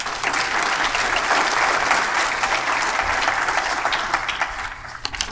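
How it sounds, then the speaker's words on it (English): A conference audience at a health workforce summit gives the newly introduced panelists a round of applause, dense and steady clapping that fills the room and slowly tapers off near the end. "If you would welcome them with a round of applause."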